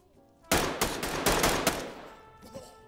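A burst of rapid gunfire in the tactical shooter Ready Or Not rings out close and loud, five or six sharp shots in quick succession, then fades into quieter room tone with a faint trailing sound.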